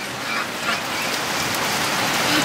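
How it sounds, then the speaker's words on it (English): Heavy rain pours down on a lake and yard where ducks are kept, a dense, steady hiss of drops hitting water and ground, close and continuous with no talking. "the rain's coming down pretty hard here"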